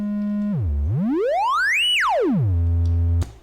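Triangle-wave output of the Instruo Cs-L synthesizer module, a loud buzzy tone that drops, sweeps steadily up to a high peak, slides back down to a low drone, then cuts off abruptly.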